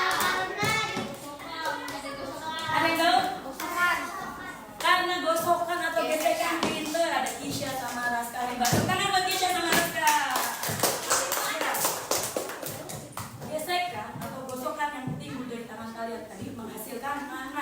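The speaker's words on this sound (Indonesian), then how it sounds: "Beri tepuk tangan semuanya." Schoolchildren in a classroom clap their hands in a rhythmic group pattern, crisp bursts repeating in quick sequences, with kids' voices chanting and talking among the claps.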